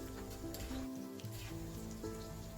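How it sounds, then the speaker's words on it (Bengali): A handful of okra fries in hot oil over a high flame, giving a continuous fine crackling sizzle. Music plays steadily over it. "তেলটা গরম হয়ে যাওয়ার পর আমি 1 মুঠো ঢ্যাঁড়স ওর মধ্যে দিয়ে দিলাম, আর একদম হাই ফ্লেমে আমি এটা কিন্তু ভাজছি"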